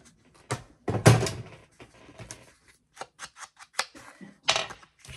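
Scissors snip a small piece off a sketched greeting card, giving several crisp, close cuts spaced irregularly with brief pauses between them.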